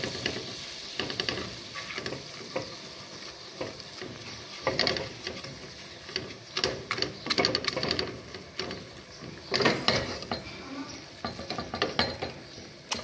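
Flour toasting in melted margarine in a pan, stirred with a utensil that scrapes and clacks in uneven bursts, close up, with a low steady background hum.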